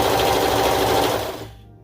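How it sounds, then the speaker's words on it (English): A serger overlocks a fabric seam on a peplum top, its rapid mechanical whir running loud and steady before winding down to silence. "going to serge from this point to this point here where my fingers are"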